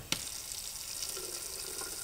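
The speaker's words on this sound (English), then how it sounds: "How about a sink" A sink tap in a machine shop runs steadily with a hissing water stream, fairly close, opening with a sharp click and continuing alone without talk.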